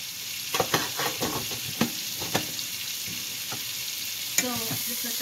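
Cumin, coriander powder and turmeric sizzle in a pan under a soft hiss, with a series of sharp stirring clicks and scrapes from a utensil and no voices.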